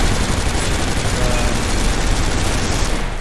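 Rapid automatic weapon fire from the top-down shooter game Synthetik, a dense, continuous burst of loud shots filling the whole moment without pause, ending slightly thinner.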